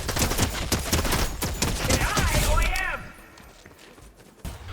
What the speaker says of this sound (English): another NPC elimination goes down with a suitcase gun I picked up earlier.